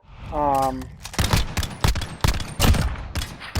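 Rapid SMG bursts from an Uzi-like submachine gun in the video game Modern Warfare, a string of sharp loud cracks in quick irregular volleys, following a short electronic tone at the start.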